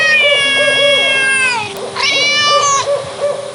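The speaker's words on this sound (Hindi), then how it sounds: "आधी रात को उन्हें उल्लू के रोने की आवाजें, बिल्ली के चिल्लाने की आवाजें आती रहती है" A cat yowls in long, wavering, drawn-out cries, two loud close calls in a row with an eerie, owl-like edge, used as a horror sound effect.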